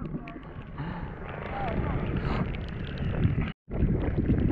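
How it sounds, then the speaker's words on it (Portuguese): Cold wind in Soledade, Rio Grande do Sul, buffets the microphone with a rough, gusty rumble during a rainy, chilly mud-vehicle event, while people talk over it and a brief dropout cuts the sound near the end. "Vento gelado"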